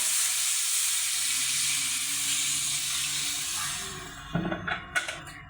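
Hilsa pieces frying in a pan give off a loud, steady sizzle and hiss that fades toward the end, where a few scraping knocks follow.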